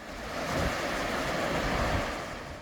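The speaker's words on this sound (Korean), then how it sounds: "오른쪽으로 조금만 올라가면 물소리가 더 커지는데요." The Hantan River rushes through a canyon beneath huge cliffs, a broad, steady roar of flowing water heard close and continuous, with no voices.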